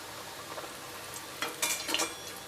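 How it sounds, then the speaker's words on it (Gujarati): Puris deep-frying in hot oil, a soft continuous bubbling with a few louder crackling sizzle bursts toward the end as dough hits the oil, close and moderately loud. "હવે આપણે આની અંદર એક પૂરી એડ કરતા જઈશું અને તળતા જઈશું"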